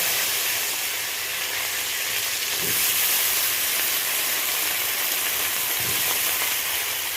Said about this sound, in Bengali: এইবার আমি কড়াইতে অল্প তেল দিয়ে দিয়েছি, বেগুনগুলো হালকাভাবে একটু ফ্রাই করে নেব